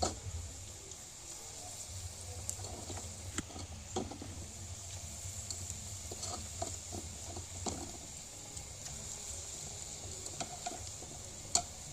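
Banana fritters fry in hot oil with a faint, steady sizzle punctuated by scattered ticks and pops of stirring, close and quiet throughout, with no talking.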